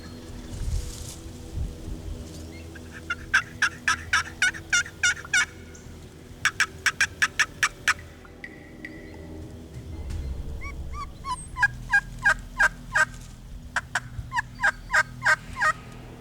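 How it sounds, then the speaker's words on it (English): A wild turkey gobbles outdoors in several loud rattling bursts, each a quick string of sharp pulses, separated by pauses and set over a low background rumble. "you'll get a turkey that'll gobble intermittently"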